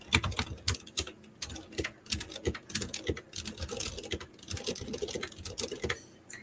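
Rapid, uneven keyboard spam on a computer keyboard, a close clatter of bursts of keystrokes with brief pauses, heard alone.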